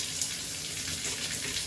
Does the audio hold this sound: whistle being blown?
no